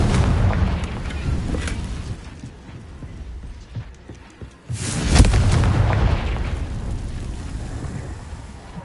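A Confringo fire spell blasts in Hogwarts Legacy, its booming burst rising sharply midway through a loud, rumbling stretch of game action with low thuds and crackle around it.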